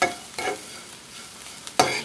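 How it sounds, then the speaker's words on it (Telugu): Drumstick leaves and carrot stir-frying in a pan with homemade sesame, coriander and dried chilli spice powder, giving a steady soft sizzle broken by a few louder scraping stirs, close and alone without talk. "ఇంకొక 5 నిమిషాలు ఫ్రై చేసుకుందాం."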